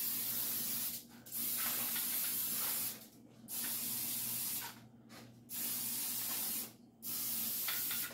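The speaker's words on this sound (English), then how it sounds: "I'm just gonna take some cooking spray, spray them down." Several long hissing bursts of an aerosol cooking spray, each lasting about two seconds with short gaps between, close and steady.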